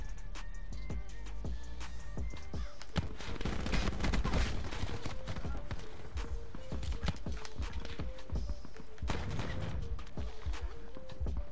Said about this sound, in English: Where are these people shooting from?